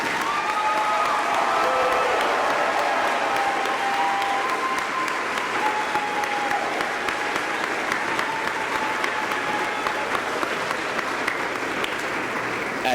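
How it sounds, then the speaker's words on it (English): An audience at a high school commencement ceremony claps in sustained, full applause for over ten seconds, with a crowd murmur and occasional cheers mixed into the steady clapping. "go ahead, you can applaud."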